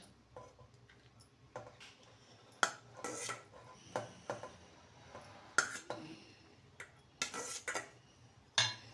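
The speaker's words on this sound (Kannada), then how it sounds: "ಇವಾಗ ಬನ್ನಿ ನಾನು ಅನ್ನ ಮಿಕ್ಸ್ ಮಾಡ್ತೀನಿ." Cooked rice being mixed in a pan for capsicum mint rice: scattered metallic scrapes and clinks of a spoon against the pan, irregular and fairly close, with quiet gaps between strokes.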